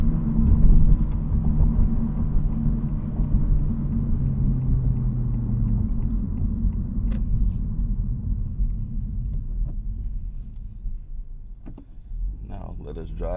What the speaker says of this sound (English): Now let us drive it at some higher speeds.